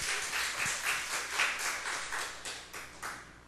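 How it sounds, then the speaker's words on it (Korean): A church congregation claps together for a boy during a worship service; a steady, fairly faint patter of many hands with gentle rhythmic swells, and no talking. "우리 병호한테 우리 박수 한 번만 쳐줍시다."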